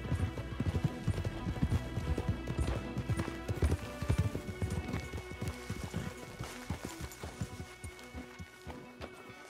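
Horses' hooves clip-clop in Red Dead Redemption 2, a quiet, uneven rhythm of hoofbeats at walking pace over a faint ambient bed, with a soft whinny in the mix.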